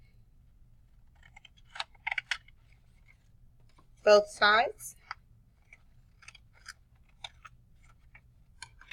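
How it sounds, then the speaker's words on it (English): Scissors cut through folded paper in a few short, crisp snips scattered across a quiet room, with a brief spoken phrase in the middle. "Take your scissors and cut"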